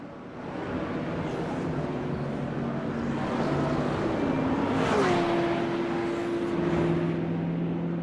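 Manthey Racing Porsche 911 and the number 98 BMW race cars battle at the Nürburgring 24-hour race, their engines a loud, sustained drone with a tone that rises and then holds steady over a continuous rushing background.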